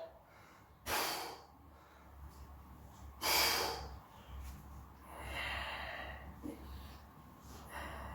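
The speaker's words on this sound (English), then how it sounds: "inhaling down, big exhale up" A person breathes heavily through resistance band reps, with two sharp forceful exhales a few seconds apart and softer inhales and breaths between, close and fairly quiet.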